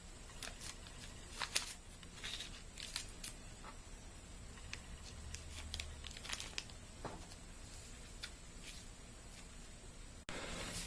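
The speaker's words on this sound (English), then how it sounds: "take your tape and tape off one end" Tape is pulled off a roll and wrapped over one end of a PVC pipe, heard as close, crackly crinkles and short tearing bursts over a faint steady hiss.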